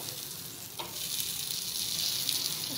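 A curd sandwich fries in butter on a pan, giving a steady close sizzle that grows a little louder and stays constant throughout, with no talking.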